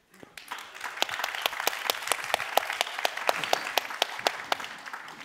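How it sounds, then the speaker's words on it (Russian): Audience applause at a live debate battle, starting abruptly and settling into a brisk run of distinct, fairly close claps with a few individuals standing out over a softer crowd wash. "Ваши аплодисменты."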